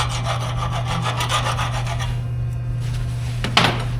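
A steady metal file rasps back and forth across the flared outside edge of a freshly cut hydraulic hard-line tube, close up and continuous, with a brief scrape near the end.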